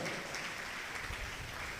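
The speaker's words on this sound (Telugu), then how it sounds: "గట్టిగా చప్పట్లు కొట్టండి, గట్టిగా కొట్టాలి." An audience at a church fasting-prayer gathering claps hard, making a dense, continuous wash of applause that holds at an even, fairly distant level for a couple of seconds.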